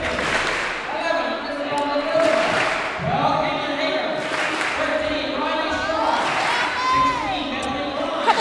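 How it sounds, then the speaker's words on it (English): Students at a Ponca City volleyball senior night give a rhythmic double clap in a gym, the crowd's claps ringing through the hall beneath steady talk from an announcer. "They have a nice little double clap to introduce their students."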